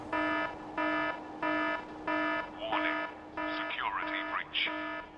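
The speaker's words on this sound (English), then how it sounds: "After the guns are destroyed, we open the prison ramps, plaguing us with more default alarm sounds." A prison alarm from the video game Warhammer 40k: Fire Warrior sounds in repeated steady electronic tones. Wavering gunfire or effect noises cut in partway through, all at moderate loudness.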